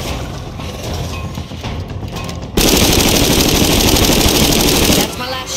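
Loud, dense burst of automatic gunfire in a Joker mission of a video game, a sudden roaring stream of shots lasting a couple of seconds after quieter background noise, with no voices.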